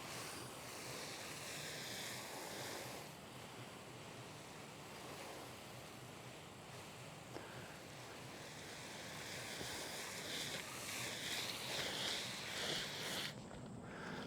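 A steady, broadband hiss of a hose spraying water onto a roof continuously, rushing and washing as it runs down, without pause, no voices present.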